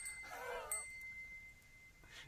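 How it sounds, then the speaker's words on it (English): A brass bell gives a short bright strike whose clear ringing tone lingers and fades across a quiet room, with no talking. "There is just something so pure and cleansing about a brass bell."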